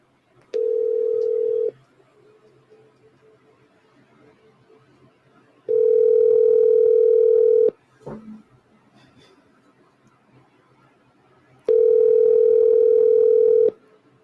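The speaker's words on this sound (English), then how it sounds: "so I'm calling now Rondi." Telephone ringback tone heard while an outgoing call is being placed: three long, steady tone bursts separated by quiet gaps, with a brief click in between.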